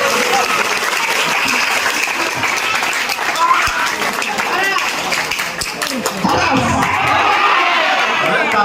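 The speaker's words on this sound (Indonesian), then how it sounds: "Tepuk tangan lagi." An audience at a vocational high school send-off event in Nabire, Papua gives steady, dense applause that continues for several seconds, with crowd chatter mixed into the clapping.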